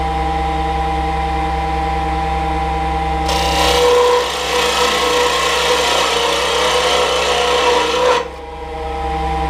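A Rikon carbide lathe tool cuts into a spinning bolt, a harsh rasping scrape lasting about five seconds over the steady hum of the running lathe.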